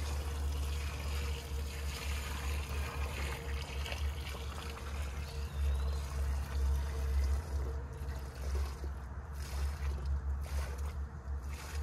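Water-based termite treatment solution, two gallons mixed with 1.6 ounces of concentrate, pours steadily into a dug soil trench, a continuous low trickling wash that carries on through the whole stretch with no talking.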